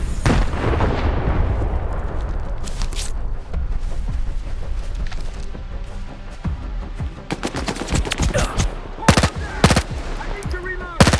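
Sustained automatic gunfire and explosive blasts from a STALKER 2 firefight, dense rapid bursts running throughout with louder sharp reports near the end and occasional voice underneath.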